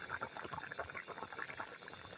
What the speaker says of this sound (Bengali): মাছ দিয়ে দিচ্ছি